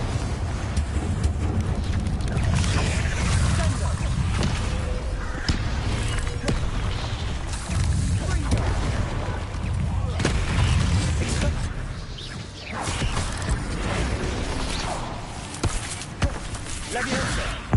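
Fiery explosive spell blasts from Hogwarts Legacy combat: repeated loud booming bursts and crackling impacts over dense rumbling game noise and movement sounds, nearly continuous throughout.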